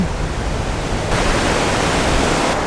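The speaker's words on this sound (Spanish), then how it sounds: "con la brisa del mar corriendo" Sea breeze rushing across the microphone on the waterfront promenade of Mazatlán, a loud steady broadband wind roar that swells slightly partway through, with no voices.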